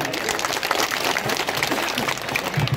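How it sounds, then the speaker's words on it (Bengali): Audience clapping at a poetry event in Rajshahi, a steady dense wash of applause from a crowd seated and standing around a stage, moderately loud and continuous throughout. "এদের সবার জন্যই একটা করতালি দেবেন আপনারা"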